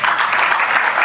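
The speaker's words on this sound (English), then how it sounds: "They're clapping for theoretical savings." An audience claps in response to a political speech about insulin costs, a dense, steady wash of applause filling the short moment without any talk over it.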